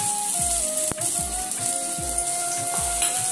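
Chilla batter sizzling in ghee on a pan over a low gas flame, a steady close hiss of frying with soft rhythmic scraping or tapping thumps and a faint whine behind it.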